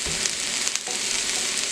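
Callaloo, Jamaican spinach, sautés in a pan with a steady, close hiss and crackle of frying, plus a light clink of stirring partway through.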